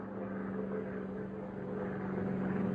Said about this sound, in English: it's that plane again. It's back.